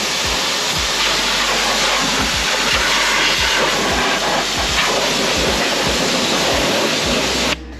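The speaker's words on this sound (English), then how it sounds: "So we always like to start off by rinsing the wheels." A garden hose sprays a steady, loud rush of water onto car wheels during a wash, with a constant hiss that stops abruptly at the end.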